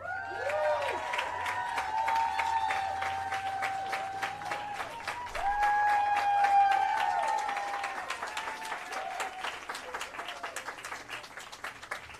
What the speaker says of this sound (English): that deserves an enormous round of applause